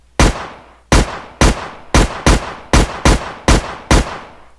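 A gun in a Unity VR game fires eight loud, sharp shots in a fairly even rhythm, each with a short decaying tail, with no voices.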